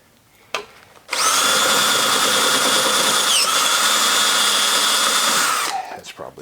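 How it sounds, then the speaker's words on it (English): Step drill bit grinding a hole for a slow speed carbide grinder build, a loud high-pitched power drill whine held steady for about five seconds after a short pause, then winding down. "And now we'll unibit it."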